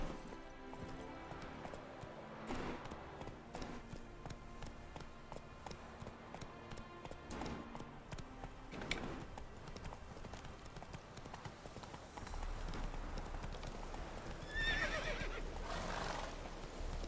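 Roach the horse in The Witcher 3 galloping, a steady rapid clip-clop of hooves with neighs over game music and ambience, a shift in weather sounds later.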